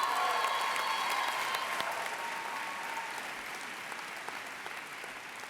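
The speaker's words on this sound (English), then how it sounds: "if you can all give the hand of applause to Syria Farouk" Steady applause from a summit plenary audience welcoming a speaker to an education session, moderately distant and gradually tapering over several seconds, with no voices standing out.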